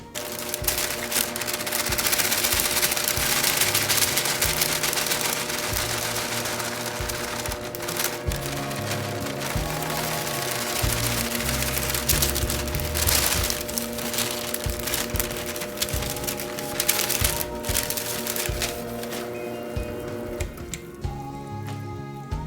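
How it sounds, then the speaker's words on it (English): An electric mixer runs on low speed through banana bread batter as the dry ingredients go in, making a steady, close whirring drone with a fine rattling texture that holds throughout and eases off near the end. "So I do this with this mixer running on low speed."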